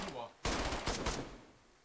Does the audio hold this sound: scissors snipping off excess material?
no